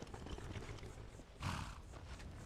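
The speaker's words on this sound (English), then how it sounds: "And I might even ride my horse a little bit." Riding a horse in the video game Skyrim, with quiet clip-clop hoofbeats and a brief louder burst like a snort or whinny midway.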